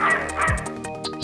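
A dog in the Sega CD game Snatcher barks and yips repeatedly in quick, uneven bursts, loud and close, with a few whimpering notes mixed in.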